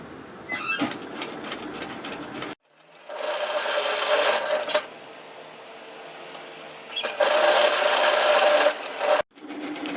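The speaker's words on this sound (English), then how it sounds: "we're going to sew a 1 centimetre seam allowance, which is 3/8 of an inch" Sewing machine running a 1 cm seam on beach wrap coverup fabric, loud steady stitching bursts with two short pauses between runs, close and alone without talk.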